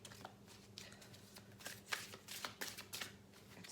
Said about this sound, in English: it's not very great to shuffle